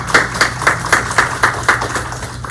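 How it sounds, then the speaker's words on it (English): Applause from a virtual town hall audience, a sparse ragged clapping of separate hands at a steady rhythm, moderately close and heard without talk. "let's give Andy a round of applause"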